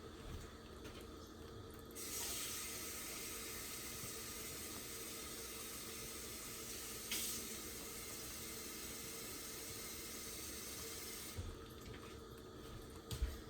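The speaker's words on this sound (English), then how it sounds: "So I'm going to go ahead and add my water in here." Water poured from a tap into a pot for New Orleans style gumbo, a steady rushing, splashing stream that starts abruptly, runs for several seconds with a brief surge midway, then cuts off.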